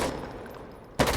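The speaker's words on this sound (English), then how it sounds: "Cyrus taking shots and trying to take out" Gunfire from a competitive first-person shooter video game match sounds as dense, rapid shots throughout, with a sharp louder burst near the end.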